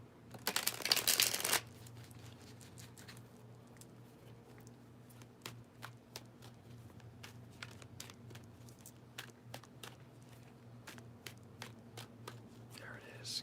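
A short burst of loud riffling of tarot cards near the start, then quiet, scattered card taps and soft flicks over a low hum, with hushed talk.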